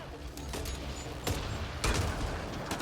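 Gunfire in the video game Mass Effect Andromeda: a steady rumbling battle bed broken by several sharp, loud shot blasts, close and dense, with no talking over it.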